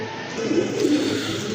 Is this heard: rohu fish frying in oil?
no